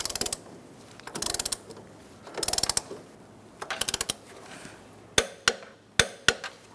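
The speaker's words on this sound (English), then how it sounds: "let's start torquing our bolts" A ratchet and torque wrench tighten the transmission mount bolts on a 2004-2009 Mazda 3 2.3L four-cylinder: several quick runs of close ratcheting clicks, then a few sharp single clicks as torque is reached.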